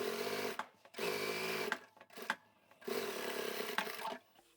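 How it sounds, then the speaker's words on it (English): A sewing machine top stitches a seam on a scrap-fabric bag in three steady running bursts separated by short pauses, close and fairly quiet. "And I'll top stitch that as well"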